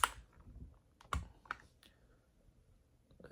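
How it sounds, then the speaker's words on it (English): A keycap being pried off a Machenike K500 Pro mechanical keyboard: a few sharp plastic clicks and snaps spaced over a few seconds, close and quiet, with faint handling noise between them. "I'm going to take off one of the keys just so you can kind of see underneath it."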